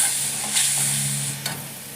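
Spice paste with ginger and green chili paste fries and hisses in a hot pan, a steady bright sizzle with a couple of short scraping stirs, no talking.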